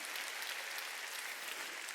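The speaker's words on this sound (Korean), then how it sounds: "깨달은 사람만 박수치라고요." Congregation applause at a Wednesday church service, a continuous patter of many hands clapping, even and unbroken, with no voices over it.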